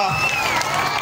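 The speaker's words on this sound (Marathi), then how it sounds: "जोरदार टाळ्या झाल्या पाहिजेत आमच्या" A crowd at a live performance cheers and claps for the performers in a brief, dense burst of applause and whoops, with voices and music tones mixed in.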